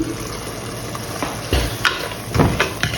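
Soft bubbling and light sizzling from a Sri Lankan-style oyster mushroom curry simmering in a pan, with a few gentle stirring or popping bursts rising over a low steady cooking hiss.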